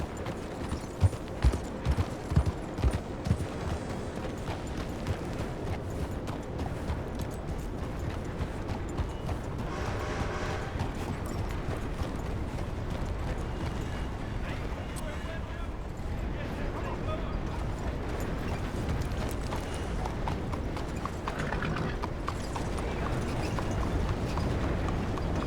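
Horse hooves clip-clop in Red Dead Redemption, a few distinct, loud, close hoof strikes at the start, then a dense steady wash of game ambience and movement.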